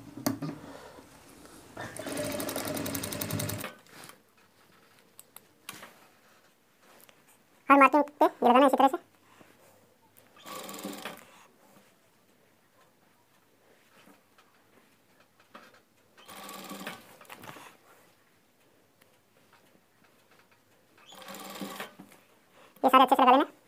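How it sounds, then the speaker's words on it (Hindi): A sewing machine stitches a folded strip onto a designer shirt in several short bursts of rapid rattling, separated by pauses in which someone talks. "और लगानी है सिलाई।"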